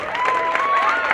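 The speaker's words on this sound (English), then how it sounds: "another big round of applause for all of the people who went all the way to the end" Audience applause and cheering fill the room at a hot wing eating challenge event, a steady dense wash of clapping and crowd noise with a whistle-like tone running through, sustained throughout.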